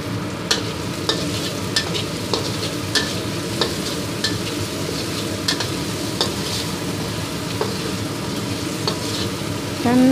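Small shrimp frying in a little oil for a spicy young papaya stir-fry, a steady close sizzle with scattered crackles and light scraping of a utensil throughout, no voices.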